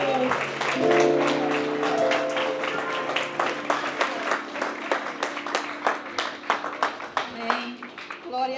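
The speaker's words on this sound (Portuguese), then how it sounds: "Aplausos al Señor." A church congregation applauds the Lord at a night worship gathering in Spain, rhythmic clapping that builds steadily and grows louder and sharper toward the end, with sustained tones and voices underneath at first.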